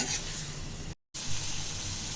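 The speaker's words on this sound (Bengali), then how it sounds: "শুটকি মাছগুলো ভালো করে কষিয়ে নিয়েছি আর ভাজা ভাজা করে নিয়েছি কষিয়ে।" Dried mola fish sizzles while being stirred in spice paste, a close, steady frying hiss with scraping movement, broken by a brief moment of silence midway.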